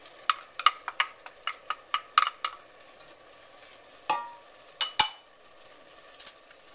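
Chopped carrot and celery tumbling into a pan for marinara sauce, a quick run of separate clinks and soft clatters followed by a few later scrapes and knocks, close and fairly quiet with no talking.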